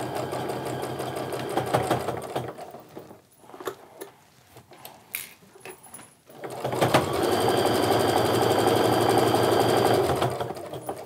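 A sewing machine stitches pieced triangle points of a quilt block, running in steady mechanical bursts with a pause in the middle, then a long continuous loud run.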